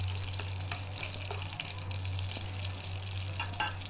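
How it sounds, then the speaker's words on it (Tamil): Cumin seeds, cinnamon and two cloves fry in hot oil and butter for palak paneer, giving a steady close sizzle with scattered crackles and pops, with no voices. "இது கூட நம்ம சீரகம், பட்டை, 2 கிராம்பு போட்டுட்டு நல்லா வேக விடுவோம்."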